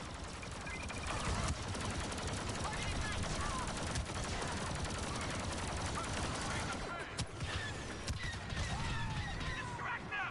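Blaster gunfire from Star Wars Battlefront 2 crackles in dense, rapid volleys alongside mechanical clanks and a game soundtrack, staying loud and busy throughout with a brief lull near the end, while voices talk underneath.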